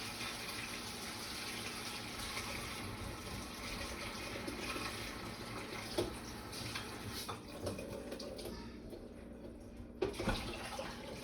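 Vegetables for a pot roast (potatoes, carrots, celery, onions) rinsed under a running tap, a steady rushing stream of water at moderate level with a few splashes and knocks near the end, no talking.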